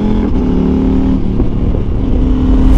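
A 2024 CF Moto 800MT adventure motorcycle revs loudly and close up, its crunchy exhaust holding a steady, rich drone with slight rises in throttle, no talking over it.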